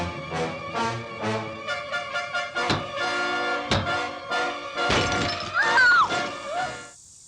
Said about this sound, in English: he picks up a brick and smashes it